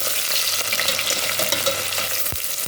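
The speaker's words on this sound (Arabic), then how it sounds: "ننزل كده بالبصل، نبدأ كده نقلب في البصل لغاية كده لما ياخد لون" Onions sizzling and crackling in hot ghee for a meat biryani, with a steady dense fry close up and brief scrapes as they are stirred, no voices over it.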